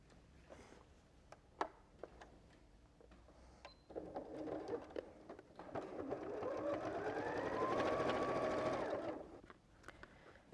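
A sewing machine stitches quilt clematis petal points onto a background, starting after a few scattered clicks and running in a steady, rising whir for several seconds before stopping, close and fairly loud.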